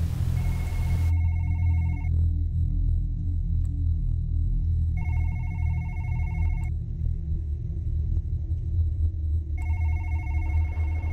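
A phone-like electronic ringing sounds in three separate bursts, each lasting a couple of seconds with pauses between, over a steady low rumble. The ringing is moderately loud and no one speaks.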